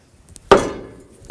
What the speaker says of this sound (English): give it a couple loving bonks with your rubber mallet